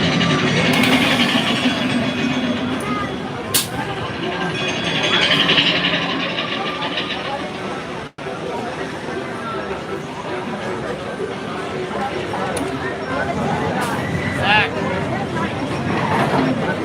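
Disneyland ride train rumbling and rattling along the track, a steady rolling clatter with squeaks, people talking and crowd noise around it.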